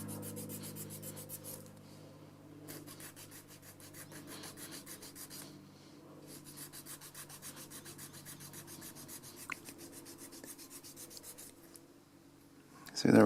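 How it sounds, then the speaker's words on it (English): A file rasping a semicircular notch into a plastic part for a 1969 MPC Plymouth Barracuda model kit, soft repeated scraping strokes in bursts, fairly quiet and close, with a low background hum. "And then you can just work your way across it. And it doesn't take long to get a semicircular notch cut out."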